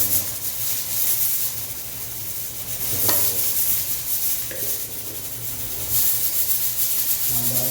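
Mutton brain pepper fry being stirred in a pan, with a steady broad sizzle and scraping strokes throughout, close and fairly loud, no voices.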